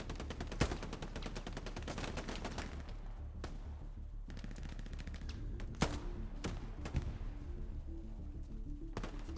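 Machine gun fire in the World War II shooter game Hell Let Loose: long rattling bursts of rapid automatic shots, with a few heavier cracks and thumps standing out, dense and continuous throughout.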